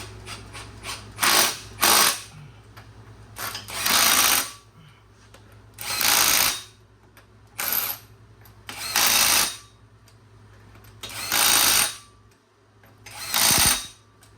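A torque wrench tightens bolts on a BMW E91, with short bursts of ratcheting clicks separated by pauses, close and loud, over a low steady hum.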